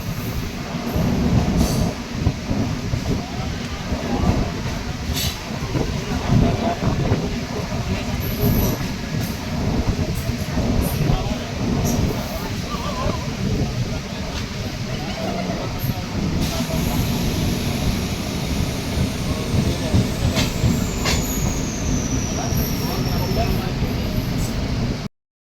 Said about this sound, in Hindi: अमौसी स्टेशन से दोनों ही ट्रेन एक साथ डिपार्ट कर रही हैं